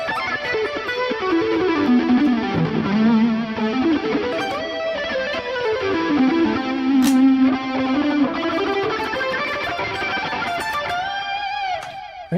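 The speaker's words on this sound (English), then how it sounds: "And then I go back to distortion." A distorted electric guitar plays sustained, gritty chords and sliding notes, loud and continuous, ending with a ringing note as it fades.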